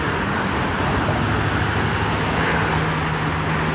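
Steady road traffic at a bus stop, a continuous roar of passing cars and heavier vehicles with a low engine hum running underneath, loud and unbroken throughout.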